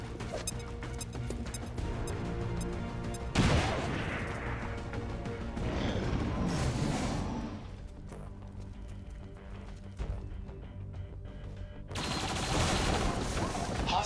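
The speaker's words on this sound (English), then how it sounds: "Grenade!" Combat in the video game XCOM 2: a sharp blast from a grenade going off, with rapid gunfire in bursts over a steady wash of game ambience and music. A voice shouts briefly.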